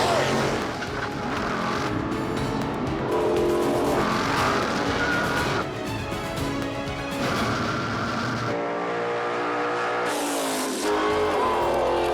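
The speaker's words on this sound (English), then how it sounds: "in the left lane, Frank Swick Jr. loses control of his 69 Chevelle" A 1969 Chevelle drag car losing control in a drag race, loud engine roar with screeching tire skids and shifting noise over crowd ambience, ending abruptly.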